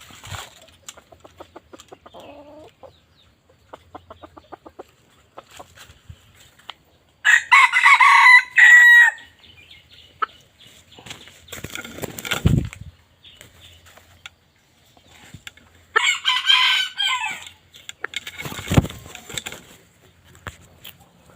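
Two loud crows from a young rooster ring out a few seconds apart, with softer clucking and scratchy rustling in between.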